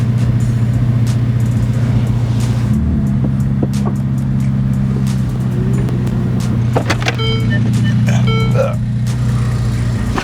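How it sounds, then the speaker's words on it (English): A 2024 Lamborghini Revuelto hybrid supercar engine runs with a steady loud low drone throughout, with brief electronic chimes and whirs layered on top near the end. "I feel like all these hybrids make mad noises, though."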